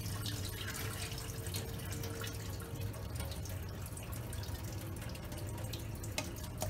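Water draining from soaked bulgur being pressed and strained for Lebanese kibbeh, a continuous trickling and dripping flow at steady level, close by, with no talking.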